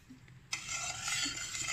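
Sugar syrup for badusha being stirred in a pan: after a brief quiet start, a sudden scrape leads into a steady, close hissing swirl that continues to the end.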